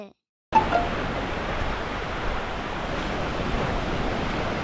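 Rough surf breaks at Ao Phai-area beach on Ko Samet, Thailand, a constant loud wash of waves with gusty wind across the microphone after a moment of silence.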